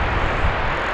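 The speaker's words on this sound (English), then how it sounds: "we should see a nice, long, leisurely takeoff here" An airplane roars on its takeoff run at DFW Airport, a loud, steady broadband engine rush with deep rumble filling the brief moment without change.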